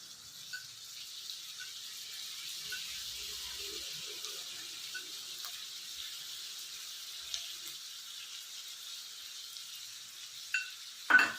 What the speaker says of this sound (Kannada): ಈಗ ನಿಂಬೆಹಣ್ಣಿನ ರಸ ಹಾಕ್ತೀನಿ